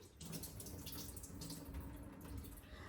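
Water drains off soaked chana dal with a soft, continuous trickle and splash, faint and steady with small irregular spatters and no voices.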